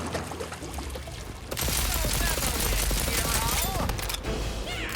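A gun fires in the video game Tiny Tina's Wonderlands, a dense run of rapid shots with a rushing, crackling wash over game effects, getting louder after a quieter opening.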